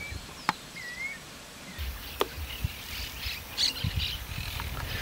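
Guira cuckoo calling outdoors, a few short chirping and whistled notes rising over faint insect and ambient noise, with scattered brief clicks and taps.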